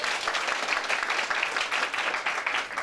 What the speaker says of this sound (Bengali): করতালির মাধ্যমে স্বাগত জানাচ্ছি।